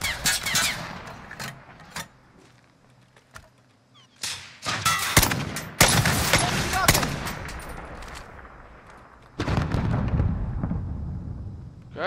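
Rocket strikes in Call of Duty Warzone: a run of loud, close explosion blasts and bursts of gunfire in irregular clusters, with short quieter gaps between them.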